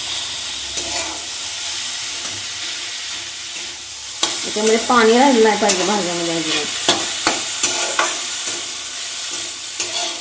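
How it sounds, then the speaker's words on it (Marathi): Chopped vegetables for momo stuffing sauté in a hot pan, a steady loud sizzle with repeated scraping taps of stirring, while someone talks over it. "मी 2 ते 3 मिनिटं या भाज्या छान परतून घेतलेल्या आहेत."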